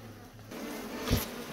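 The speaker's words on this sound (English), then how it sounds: "we've got a good little mess of bees right here" Bees buzzing in a beehive among the comb, a short, low hum, with one louder burst as a bee passes close.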